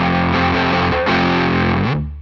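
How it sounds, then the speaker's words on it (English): Distorted electric guitar chords ring out loud and sustained, part of a pre-chorus, with a brief break near the middle and a sliding change before the last chord fades. "build it up to that like pre-chorus part, which is kicking on distortion"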